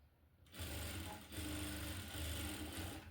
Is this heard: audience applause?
no